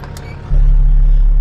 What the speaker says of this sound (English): the red airline, when I push this in, that's supplying air to the trailer